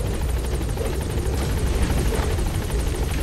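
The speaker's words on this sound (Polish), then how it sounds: "Lecimy do helikopteru" Helicopter in the video game Metal Gear Solid V: The Phantom Pain, a loud steady rotor drone with rapid chopping blade beats, continuous throughout with no talk over it.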